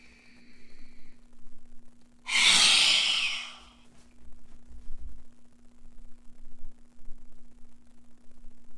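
A single deep inhale during a breathing exercise, one loud rushing breath drawn in close to the microphone for about a second, followed by quiet, low breathing.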